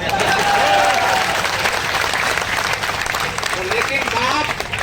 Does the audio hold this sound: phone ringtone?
no